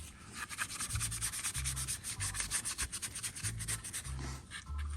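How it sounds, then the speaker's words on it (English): Sanding pad scuffing a brand-new plastic part to prep it for hydro dipping, rapid rhythmic back-and-forth rasping strokes, close and steady throughout, no talking. "So first thing we got to do is scuff it up."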